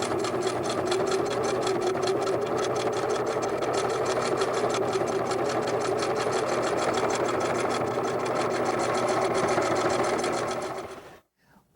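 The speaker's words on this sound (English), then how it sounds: "Continue sewing down the other side." Quilt binding runs through a sewing machine in one long, continuous, rapid stitching whir, close and loud with a steady mechanical pulse, ending with a short wind-down and a brief click.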